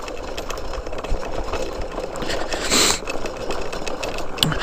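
Honda C90 motorcycle engine idling with a steady, busy mechanical chatter, close and fairly loud, with a brief surge before the end.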